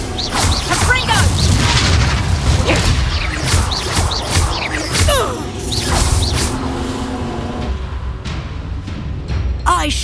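Spell combat in Hogwarts Legacy: a dense run of magical blasts, whooshes and impact crashes, loud and continuous, with a voice casting spells over the fighting.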